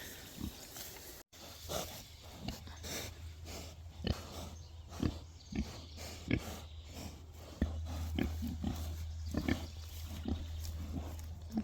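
Large farm pigs, a couple months before butchering, grunt and snort repeatedly at close range over a steady low hum, the grunts coming in an irregular stream throughout.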